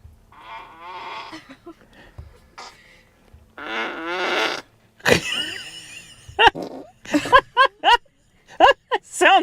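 Fart sound effects played through a Tesla Model S cabin's whoopee-cushion feature. A series of short and drawn-out rasping blasts, loud and close, alternates with people talking and laughing.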